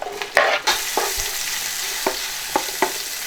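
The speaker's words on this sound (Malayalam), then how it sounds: "ചിക്കൻ മൊത്തം സെയിം എണ്ണയിലോട്ട് നമ്മൾ ഉള്ളി അരിഞ്ഞിട്ട് കൊടുക്കുന്നുണ്ട് കേട്ടോ." Sliced onions fry in oil left over from frying chicken for chicken pot rice, with a steady close sizzle broken by several sharp clinks and scrapes of stirring.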